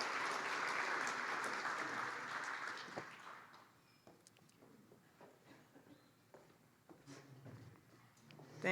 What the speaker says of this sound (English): Clap it up for Ms. Sharon.